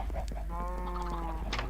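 In a Minecraft game, chickens cluck in short, tonal bursts close up over a low steady hum, with a couple of brief clucks repeating across the moment.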